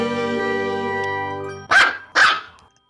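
A dog barks twice in quick succession, sharp and fairly close, after a steady tonal hum fades out beneath it.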